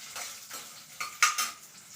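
Curry leaves hit a pan during chutney cooking, giving short bursts of close sizzling with spatula clinks against the metal. The sounds come in quick uneven bursts.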